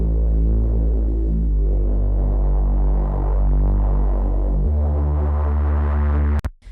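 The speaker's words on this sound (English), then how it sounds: "So the Reese bass sounds like this." A Reese bass synth patch built in Serum within Ableton plays deep, sustained, throbbing notes with a detuned, phasing texture. It steps down in pitch partway through and then cuts off abruptly.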